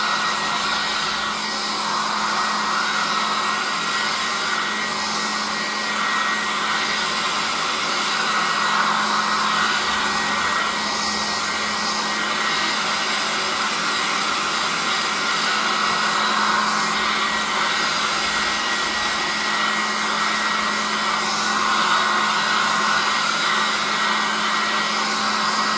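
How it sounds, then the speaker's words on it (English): A hair dryer blowing over wet acrylic paint, a steady loud whooshing drone held without a break for the whole stretch, with no talking. "Now we're going to get our funky hair dryer out."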